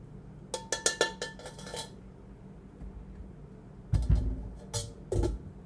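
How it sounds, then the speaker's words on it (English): Cooked rice is tipped into a bowl of sausage and broccoli, giving a run of quick clinks and scrapes against the dish, then a pause and a few heavier knocks and clatters, close by with no talk. "I'm just going to add it to the bowl with my sausage and broccoli"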